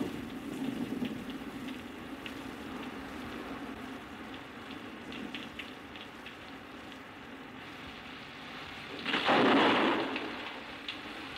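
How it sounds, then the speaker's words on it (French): A thunderstorm brings steady rain hissing throughout, with a loud rolling burst of thunder toward the end. "Ah, voilà enfin de l'orage, si ça pouvait rafraîchir l'atmosphère."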